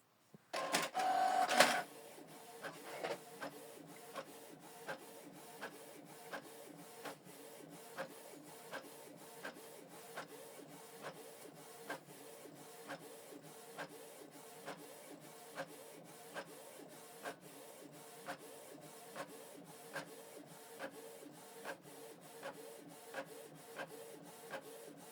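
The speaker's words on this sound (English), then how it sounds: "Then you select start printing to print out the second page." A Canon PIXMA MG2555G inkjet printer prints a page, a quiet rhythmic series of regular clicks and ticks from the paper feed, following a brief louder burst as printing begins.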